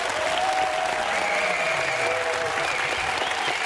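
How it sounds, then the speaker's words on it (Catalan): Studio audience applause on a TV game show, a loud, sustained burst of clapping from a full crowd that holds steady throughout, with a faint tone sounding beneath it. "Li donem un fort aplaudiment, sí, a la Lídia i a la Imma."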